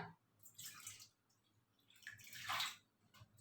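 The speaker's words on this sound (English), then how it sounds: "Now I am ready to add water to this washed dal." Water is poured into a bowl of washed tur dal in two soft splashing bursts, faint and close, with quiet pauses between them.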